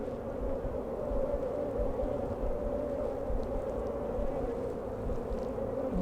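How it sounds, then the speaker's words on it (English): Honey bees buzzing around a hive during queen marking, a constant close droning hum from many insects with steady texture throughout, no speech over it. "These attendant bees are not making it easy."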